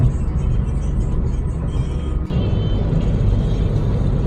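Steady road and engine noise from a car cruising along an open expressway toward Kanchanaburi, a continuous low rumble heard from inside the vehicle with no pauses.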